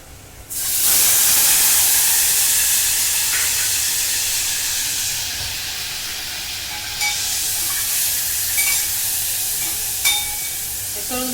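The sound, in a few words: paneer frying in oil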